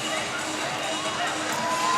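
Basketball crowd roaring steadily at a college men's game between City College and MiraCosta, a dense wash of cheering and shouting that stays loud for the whole stretch, with no clear single voice standing out.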